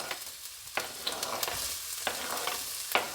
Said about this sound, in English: To our garlic scented olive oil, we are just going to add in our onions.